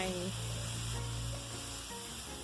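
Vegetables hit a hot pan with fresh shrimp and sizzle steadily, a bright continuous frying hiss that stays fairly loud throughout, with faint stirring clatter.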